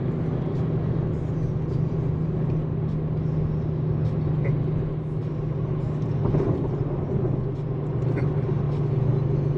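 Steady low road rumble and engine hum from a car cruising at about 40 mph in sport mode, constant and close from inside the cabin, with no clear talk over it.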